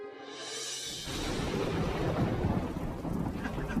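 A thunderstorm with rain and wind in a cartoon scene: a thin whoosh gives way to a heavy, continuous rumble of thunder and pouring rain that stays loud and close.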